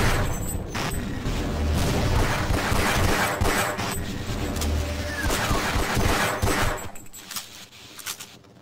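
Rapid bursts of automatic gunfire from AI enemies in Half-Life: Decay on PS2, dense crackling volleys with booming impacts, loud and near, tapering off toward the end.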